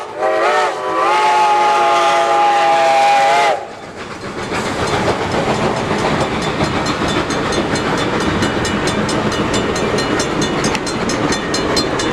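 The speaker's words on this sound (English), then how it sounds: "Catching a train rolling through the wintery mountains through the Anthracite region of Pennsylvania." A Reading & Northern steam locomotive rolls through snowy winter mountains in Pennsylvania's Anthracite region, opening with a loud sustained whistle blast, then a steady rhythmic chuffing and rail clatter that continues close and strong.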